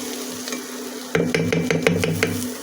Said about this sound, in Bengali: এবার এর ওপরে আমি ডিম ছেড়ে নেবো